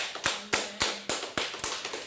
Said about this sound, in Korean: 우리 주님께 감사의 박수 올려드립시다